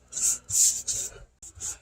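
A small paintbrush is worked over kitchen cabinet framework in five short, scratchy strokes close by, each a soft rasp separated by brief pauses, with no talk.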